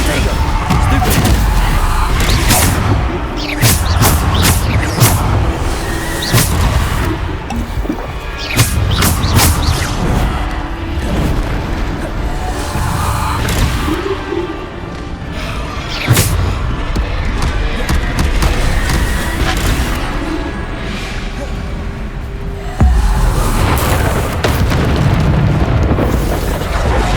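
Repeated Bombarda spell blasts from Hogwarts Legacy, booming explosions and bursts layered over a dense, loud combat mix of spell effects, with a voice casting spells throughout.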